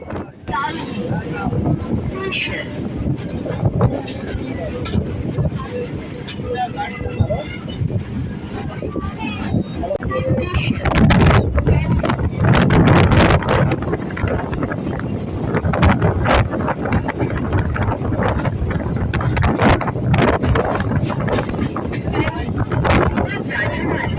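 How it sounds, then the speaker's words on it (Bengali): A local train pulls into Taldi station, a loud continuous rumble of wheels and carriage noise with heavy wind buffeting the microphone, and someone talks over it throughout. "শিয়ালদার থেকে আটত্রিশ কিলোমিটার পথ অতিক্রম করে আমাদের ট্রেনটা এই মুহূর্তে ঢুকলো তালদি স্টেশনে"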